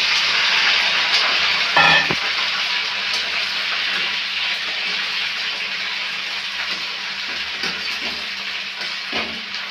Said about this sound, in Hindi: ये इस तरह की भिंडी ऐसी चॉप की हुई, ये इस तरह से तेल में इसको डाल देंगे